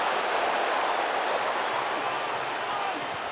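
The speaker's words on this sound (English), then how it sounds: "Wonderful tackle from Kolisi, which drew some appreciation from the crowd" A rugby crowd at the 2018 South Africa v Australia match in Port Elizabeth applauds a tackle by Kolisi, producing a steady, broad wash of clapping and crowd noise throughout.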